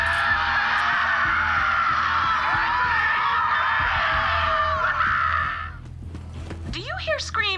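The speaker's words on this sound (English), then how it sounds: "Do you hear screaming" Screaming in the video game Borderlands 3, a long, loud, harsh wailing that holds steady for several seconds over low background rumble, then cuts off and gives way to quieter sounds and a rising voice-like call.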